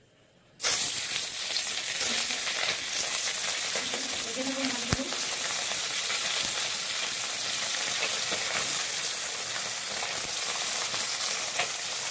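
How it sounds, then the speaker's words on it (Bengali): Fish pieces dropped into hot oil burst into a loud, sudden sizzle that then holds as a steady close crackle, with a sharp utensil click midway and no talking. "এখন মাছ ভেজে নেব।"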